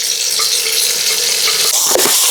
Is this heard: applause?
no